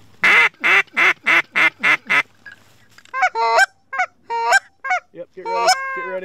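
Geese honk loudly and close by during a hunt in New York, first in a quick regular series of six calls, then in looser, more varied honks.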